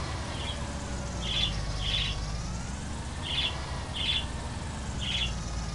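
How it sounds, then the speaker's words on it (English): A bird in a South Brazil game map chirps in short, clustered calls that repeat at regular intervals over steady background game noise, with no talking. "Oh, bird."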